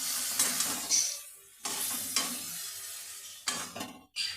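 Garlic and chili paste sautéing in a pan for a gourd-greens dish: a crackling sizzle broken by several loud bursts of stirring and scraping, with quieter gaps between them.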